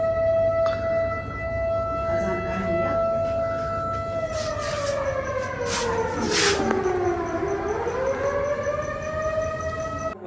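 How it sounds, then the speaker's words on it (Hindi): Islamic call to prayer from city mosques during Ramadan, a long wavering sung voice with sustained tones that slowly bend down and back up, moderately loud over a distant background hum. "अभी नमाज का टाइम भी हो चुका है और अजानें भी आ रही हैं"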